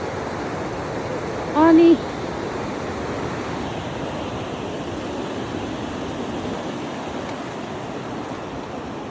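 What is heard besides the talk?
river rushing near hot spring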